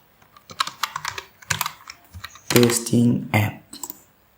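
A username is typed on a computer keyboard in quick bursts of close, crisp key clicks separated by short pauses, under no talking.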